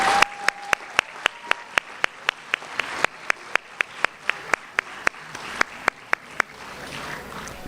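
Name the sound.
applause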